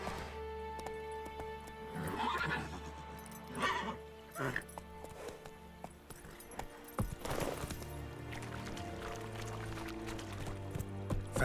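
Roach the horse in The Witcher 3 video game gallops with rhythmic clip-clop hoofbeats and lets out a neigh, while voices talk over the hooves.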